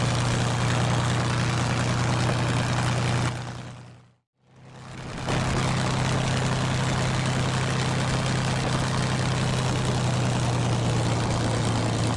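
A P-51 Mustang's Merlin engine runs steadily while the fighter taxis, a loud, constant propeller drone with a low throbbing hum that briefly cuts out before resuming at full strength.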